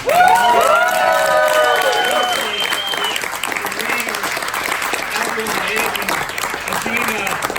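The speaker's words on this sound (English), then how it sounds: "Everyone at that table just needs a round of applause." Applause and cheering from a crowd at an election night victory party for Suhas Subramanyam, loud and steady throughout, with voices and chatter mixed in.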